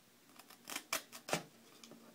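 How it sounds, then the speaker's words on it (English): A knife slices through HB115 cosplay foam in a few short, crisp cutting strokes, close and fairly quiet, with brief pauses between them. "If you want to use knives on this, this is how easy this stuff is to cut."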